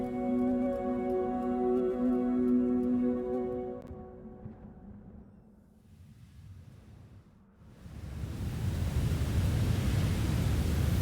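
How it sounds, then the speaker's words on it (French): Sand cascade in the video game Journey, a broad rushing hiss that swells loudly after a quieter stretch and fills the rest of the clip, following sustained musical tones that fade out. "Une cascade de sable."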